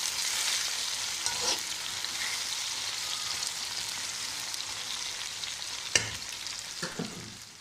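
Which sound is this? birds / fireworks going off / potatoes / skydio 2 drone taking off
potatoes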